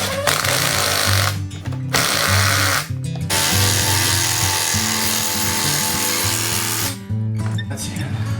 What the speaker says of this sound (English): by drilling that in